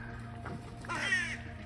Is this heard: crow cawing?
yes